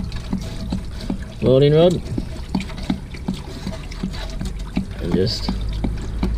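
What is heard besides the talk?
water gushing out of caravan hot water unit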